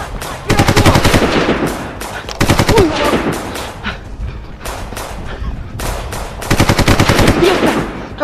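Rapid machine-gun bursts in a game, loud and close, firing in several long volleys separated by short pauses, with excited voices shouting in the background.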